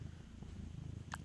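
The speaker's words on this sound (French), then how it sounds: "il est en train de ronronner sur le téléphone" A pet cat purrs right against a phone, giving a close, low, steady rumbling purr with a couple of brief higher clicks near the end.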